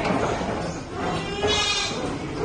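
A home-bred goat bleats loudly and close, a continuous wavering call filling the whole stretch.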